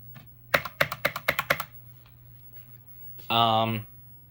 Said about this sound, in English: This is a Corsair. I have the box over there. K65 RGB Mini. So if I type,